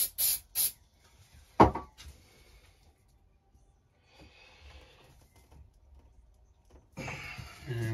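Glue activator sprays in two quick, sharp hissing bursts at the start during a guitar build with a zebrano wood top, followed by quiet handling noises.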